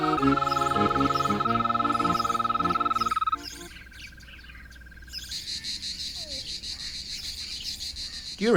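Cicadas sing in trees at dawn, a dense buzzing and pulsing drone that later gives way to a thinner rhythmic chirring chorus, loud and continuous with no voices.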